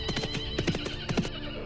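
A horse whinnies and snorts in alarm, several sharp neighs close up over rapid clip-clopping hooves, loud with no voices.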